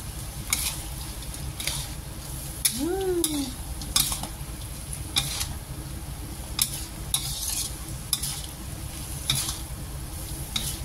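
Fried tempeh is stir-fried in a pan for a simple tumis with squid, chicken and long beans. A steady sizzle runs under regular scrapes and clinks of a spatula, with one short squeaky whine near the start.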